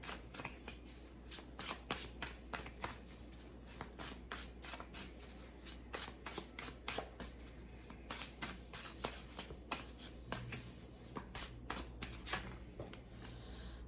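Tarot cards are shuffled by hand at close range, a long run of quick riffling bursts and soft slaps with an even rhythm and no talk.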